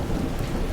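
A fierce thunderstorm with wind and heavy rain, a brief loud burst of dense rain hiss over a deep rumbling roar, heard alone.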